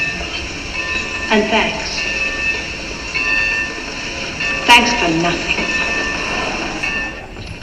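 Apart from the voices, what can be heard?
train running on rails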